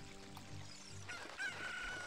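A chicken in the video game Zelda: Ocarina of Time gives a brief cluck and crowing call over a low game backdrop, short and moderately clear, with no talking.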